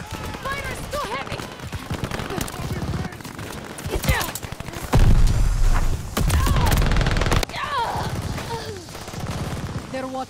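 Heavy gunfire rattles through a Call of Duty: Vanguard multiplayer free-for-all match against bots, with rapid bursts of automatic shots, sharp single cracks and a loud dense fusillade, up close and overlapping.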